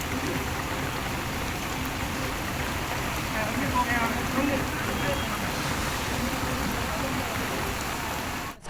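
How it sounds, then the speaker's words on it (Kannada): A dense, steady roar of heavy monsoon rain on the Karnataka coast fills the whole clip at constant loudness, with no voices. "ಕರಾವಳಿ ಭಾಗದಲ್ಲಿ ನಿರಂತರವಾಗಿ ಮಳೆ ಆಗ್ತಾ ಇದೆ."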